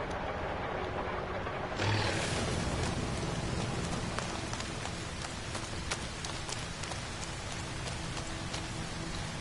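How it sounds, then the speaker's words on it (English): Toxic rain falls steadily in No Man's Sky, a dense, loud hiss of drops that swells sharply about two seconds in and then keeps pattering without a break, with no one speaking over it. "A little bit of toxic rain."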